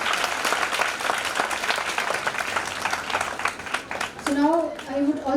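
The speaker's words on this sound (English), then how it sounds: "So big round of applause for Sir and very welcome you, sir." An audience at a nursing conference claps to welcome a retired guest. Loud, dense applause runs for about four seconds, and a voice takes over as the clapping dies down.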